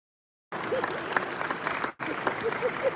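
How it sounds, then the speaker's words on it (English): A summit audience at an African real estate event claps after a brief silence, a close, dense patter of hand claps that dips for a moment and resumes. "Yes, clap, clap, clap."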